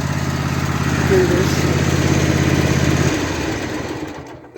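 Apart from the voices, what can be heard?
tractor engine running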